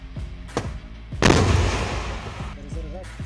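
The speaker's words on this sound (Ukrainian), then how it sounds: "Постріл." A single loud artillery gun firing during combat, a sharp close boom with a rumbling decay, surrounded by brief bursts of talk before and after.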